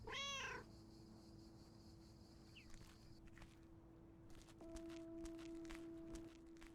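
A single short cat meow opens the clip, followed by quiet, soft footsteps and a faint steady tone, with no voices.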